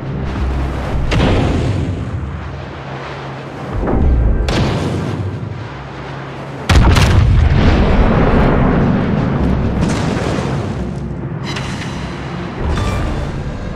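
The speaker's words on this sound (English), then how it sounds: "Concentrate fire on the enemy warship." Heavy naval artillery from a warship firing on an enemy warship in a video game, a series of deep booming blasts with rumbling tails, one especially loud salvo midway, sustained roar between shots.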